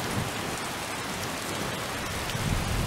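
Heavy in-game rain pours over open countryside near a river, a thick unbroken hiss with a faint low rumble underneath, close and constant with no talking.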